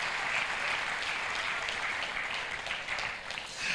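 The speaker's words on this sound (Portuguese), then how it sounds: "pode dar salva de palmas ao Senhor" A church congregation applauding during a pastors' gathering, a steady, full round of many hands clapping that holds for several seconds and dips slightly near the end.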